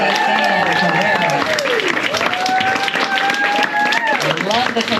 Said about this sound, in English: keep clapping for Justin, Vivian Bond, and Nath Ann Carrera.